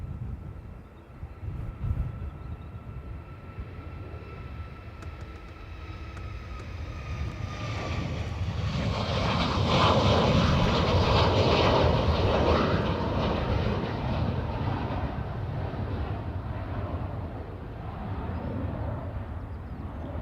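Ryanair jet engines roar on runway 28 right at Dublin Airport, building from a distant whine to a loud, broad rumble that peaks midway and then slowly fades.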